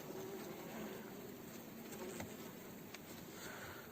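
A convulsing bee near a feeder on a farm gives a faint, continuous insect buzz under steady outdoor background noise, with a few soft ticks and no speech.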